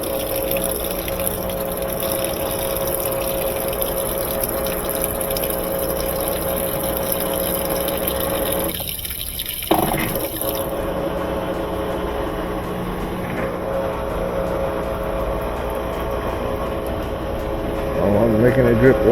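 A top-loading washing machine, under repair for a gearbox swap and bent spin basket, runs its rinse cycle with a steady pumping, gushing water drone that holds throughout and briefly dips before resuming, with voices talking over it.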